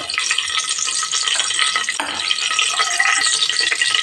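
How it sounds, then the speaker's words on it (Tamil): Cinnamon, cloves, cardamom and bay leaf fry in hot oil in a pan, giving a steady close bright sizzle with faint stirring scrapes and no voices. "இப்போ பட்டை சேர்த்திடலாம் கிராம்பு ஒரு நாலு ஏலக்காய் பிரிஞ்சு இலை"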